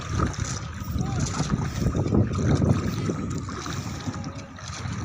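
A bangka boat moving on a river, with a steady broadband rush of wind and water noise close to the microphone throughout.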